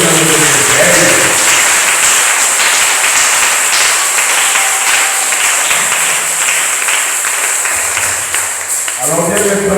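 A church congregation at a French-language service claps and cheers in sustained applause, loud and crowded throughout, with voices calling out over it and talk resuming near the end.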